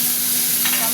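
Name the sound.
tomato added to fried onions, sizzling in pan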